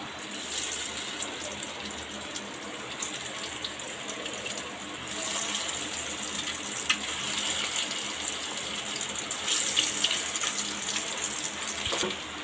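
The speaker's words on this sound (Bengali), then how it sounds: "তেলটা আমার গরম হয়ে গেছে একটু বেশি তেল দিয়েছি এবারে আমি কোপ্তাগুলো এক এক করে ভেজে তুলবো" Rohu fish koftas fry in hot oil with a steady, even hiss that holds throughout at moderate loudness, with no one talking.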